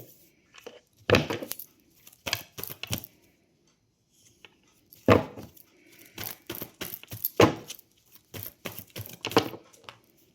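Tarot cards are shuffled and drawn on a table in irregular clusters of crisp flicks, slaps and riffles separated by short pauses, close and loud with no voice.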